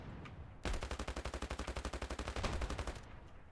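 Automatic gunfire stuck on continuous fire in the mobile shooter Standoff 2, a rapid, even burst of about twenty-five close, loud shots lasting over two seconds before cutting off.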